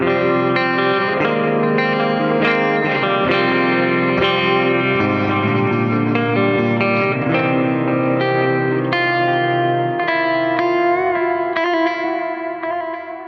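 Electric guitar through a GE250 amp modeler with the high cut filter engaged, taming the high-end fizz; a sustained passage of strummed chords and picked notes with reverb and chorus, loud and steady, fading slightly at the end, no voices.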